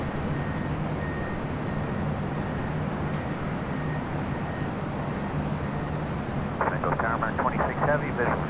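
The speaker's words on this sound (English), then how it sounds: "this 767-400ER heading to Atlanta, Georgia will be the next departure on the 24 left" A Boeing 767-400ER jet departing runway 24 left at LAX, bound for Atlanta, its engine roar a loud, steady rumble throughout, with a brief burst of other sound near the end.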